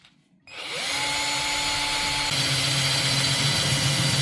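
A power drill suddenly starts and whines steadily and loudly while boring a hole through a growler bottle cap, the motor note holding constant with a slight shift partway through, with no talking.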